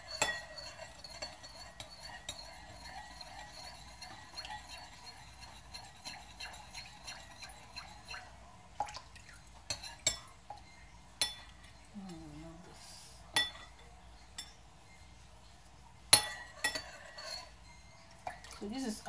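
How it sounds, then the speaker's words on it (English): A spoon stirring a cucumber and aloe vera oil mixture in a small container, with light clinks and taps against the side, sparse and close after a quieter stretch. "And I'm going to mix it very well."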